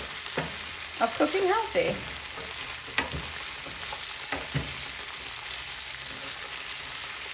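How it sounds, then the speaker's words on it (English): Garlic green beans sauté in a pan with a constant, close sizzle, punctuated by a few spoon scrapes and clicks. A voice speaks briefly and softly partway through. "We're going to continue to stir."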